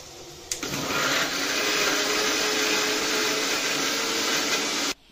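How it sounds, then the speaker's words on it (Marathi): A mixer grinder grinding ingredients into a paste starts abruptly and whirs loudly and steadily for several seconds, then cuts off. "आता हा जो दिसतोय तो तुम्हाला ग्राइंड करणार आहे, मी पूर्ण पेस्ट करून घ्यायची।"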